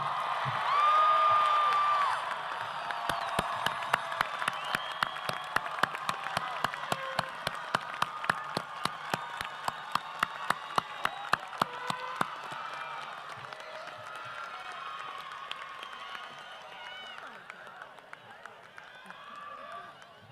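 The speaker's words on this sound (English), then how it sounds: "let's give another big round of applause for the class of 2023." Applause at the Winslow Township High School class of 2023 graduation ceremony: a broad crowd clapping and cheering, then a long run of distinct rhythmic claps in unison, fairly distant, with a short whistle or whoop near the start.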